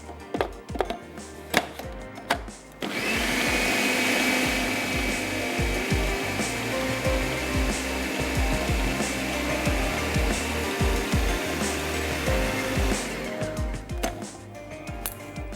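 An electric grinder runs on lentils and spices for shami burger, a loud, steady whirring roar lasting about ten seconds, preceded by clattering knocks as the container is handled and fading as the motor stops.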